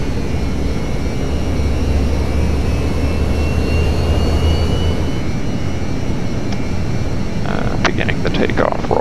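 Jet engines of a Northrop F-89 Scorpion in Flight Simulator X spool up into a loud continuous roar with a high whine, and a low rumble fades partway through as a voice speaks briefly near the end.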